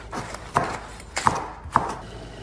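Three sharp knife chops through banana peppers on a cutting board, spaced about half a second apart, close and fairly quiet with no talking.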